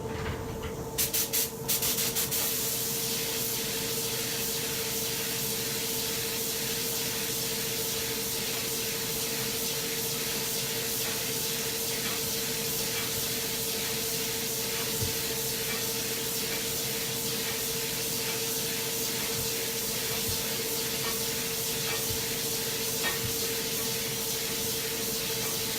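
Spray gun laying a very wet coat of Tamco HC-9500 clear coat onto a panel, a steady close hiss with a fixed whine running throughout, no voices.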